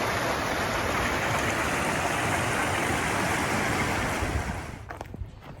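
Hatch Creek rushing through Lassen Volcanic National Park, a loud continuous wash of moving water with some wind that drops off sharply near the end.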